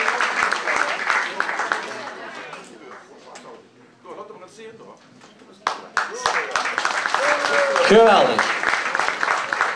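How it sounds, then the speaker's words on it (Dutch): An audience applauds the junior dance group at a youth carnival comedy championship prize ceremony, with clapping under a speaking voice that swells back loudly after a brief lull. "Applaus voor hen en de beker van Karel"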